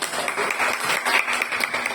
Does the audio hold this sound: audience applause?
yes